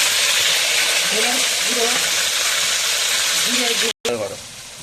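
Spice paste frying in hot oil for Bengali mutton kosha, a steady loud sizzle with scraping stir sounds and a voice talking over it, briefly cut off near the end before the frying resumes more quietly.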